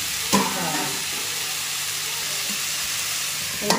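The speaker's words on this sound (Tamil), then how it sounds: "மூடி வச்சா சீக்கிரம் வதங்கிடும் தக்காளி" Tomatoes sauté in a pan for an egg curry, giving a continuous close sizzle with faint hiss, marked by a clink at the start and another near the end.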